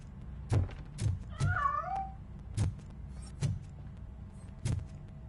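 A cat in the video game Catsanova gives a single drawn-out, wavering meow, set against a run of dull thumps and knocks that land every second or so.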